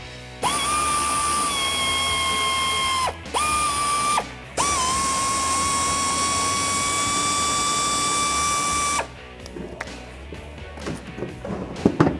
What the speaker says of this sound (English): we're going to start by removing the factory mud flap and mud guard with the T15 Torx bit